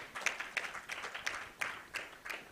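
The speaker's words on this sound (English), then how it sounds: "A round of applause, please" Light audience applause at a media symposium, a thin, fairly faint patter of claps from a small crowd with distinct individual claps, lasting a couple of seconds.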